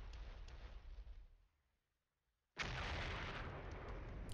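Artillery strike in the Flashpoint Campaigns: Southern Storm wargame: a rumbling blast fades into near silence, then a second loud, sustained explosion bursts in and roars on, with no talk.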